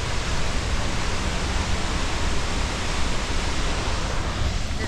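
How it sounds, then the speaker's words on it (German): A waterfall in rainy Swedish wilderness roars with heavy water flow, a dense, steady broadband rush that stays loud and close without pause. "der Wasserfall, da kommt so viel Wasser durch, das ist der Wahnsinn"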